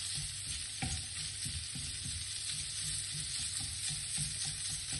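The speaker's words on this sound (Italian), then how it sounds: "aggiungo la carne di manzo trita e lascio rosolare anche la carne." Ground beef browning with softened onion in a pan, a steady close sizzle broken by occasional scrapes and stirring knocks, with no talk over it.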